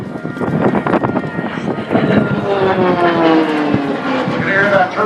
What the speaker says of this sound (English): You can hear that turbine engine ring as he moves it back uphill now.